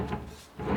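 A wooden kitchen drawer in a rural cottage slides open or shut with two soft rumbling scrapes close by, a brief lull between them.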